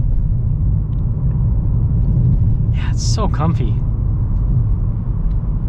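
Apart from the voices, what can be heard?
Nissan Kicks SV driving over bumpy, beat-up road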